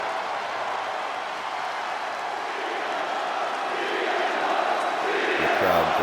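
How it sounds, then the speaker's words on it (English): Video game arena crowd in WWE 2K25 cheers loudly for CM Punk's entrance, a dense steady roar that swells slightly toward the end, with no clear talk over it. "The crowd just giving him a huge warm welcome."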